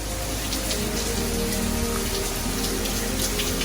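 A heavy rainstorm outside, a dense, continuous hiss of rain on surfaces, steady and close throughout with no talking.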